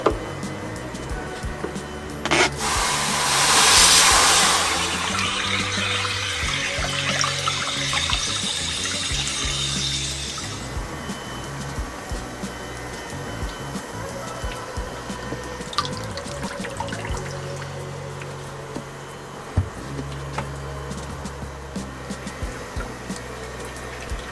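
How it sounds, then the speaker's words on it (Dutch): Water runs steadily from a tap into a bucket, with a louder gush near the start and then a continuous splashing flow. "Dus ik ga nu deze emmer met water vullen."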